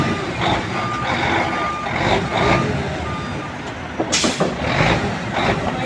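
A Fuso 6M70 truck reversing, its backup beeper chirping in a regular repeating pattern over a rough idling diesel engine, with a sharp hiss of air brakes partway through.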